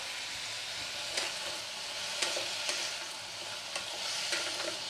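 Bottle gourd greens and pumpkin with salt and turmeric being stirred in a frying pan, a steady soft sizzle with a few distinct scraping strokes of the spatula at irregular intervals, close and alone with no voices.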